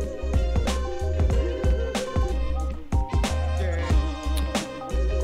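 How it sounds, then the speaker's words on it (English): Sample-based hip-hop beat with heavy punchy kicks and sharp snares over a looped melodic sample, loud and steady in rhythm, playing alone without talk. "So I made this beat using some samples"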